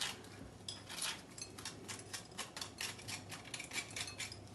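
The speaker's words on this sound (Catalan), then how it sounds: "Anirem tallant els pebres, sobretot traurem tot el que hi ha blanc a dintre amb les llavors" A knife cuts green peppers on a board in a home kitchen, making a steady run of fast, light clicking and tapping strokes, close and quiet, with no talking.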